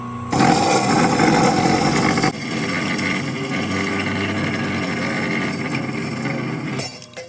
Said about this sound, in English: I'm gonna cut that in the cold saw